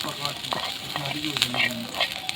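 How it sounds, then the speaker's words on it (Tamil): Onions sautéing in oil in a pan, a steady close sizzle with stirring scrapes and soft clinks running through, no voices over it. "இந்த அளவுக்கு வந்து வர அளவுக்கு வதக்கிக்கணும்"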